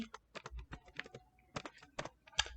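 Python code being typed on a computer keyboard: quick irregular clusters of crisp key clicks with short pauses between bursts, close and quiet, no speech.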